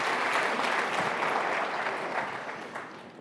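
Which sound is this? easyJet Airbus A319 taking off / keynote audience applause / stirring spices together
keynote audience applause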